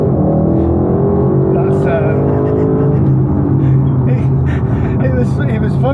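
An Audi RS6 accelerates hard from a launch start, its deep engine rumble and rising drone running steadily under someone talking.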